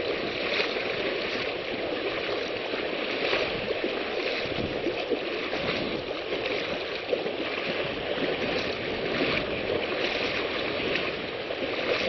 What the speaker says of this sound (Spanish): Estoy cruzando el río Loa